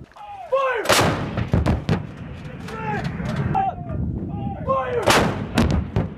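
A U.S. Marine M777 howitzer fires during training. Two loud, sharp booms land about four seconds apart, and shouted commands and other voices carry between them.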